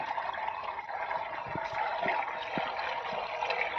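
A farm water pump on a plantation drawing water, heard as a steady rushing, gurgling flow with a few soft knocks, close and continuous, with no talk.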